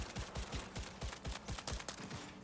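Rapid bursts of gunfire from a gun in the video game Cyberpunk 2077, a steady run of roughly a dozen sharp, punchy shots with no talk over them.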